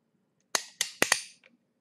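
A J.P. Sauer & Sohn western six-shooter revolver in .45 Long Colt, dry-fired: a short series of four crisp, close metallic clicks in quick succession, with a faint fifth tick trailing off in quiet surroundings.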